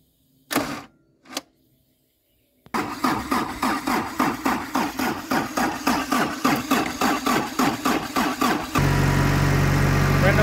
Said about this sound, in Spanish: ahí arrancó muy bien lo que es el motor